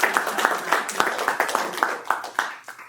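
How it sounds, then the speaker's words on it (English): A small group at a school district board meeting gives a short round of applause, the individual claps distinct and uneven at close range, thinning out toward the end. "I just think we should applaud them because they really did a lot."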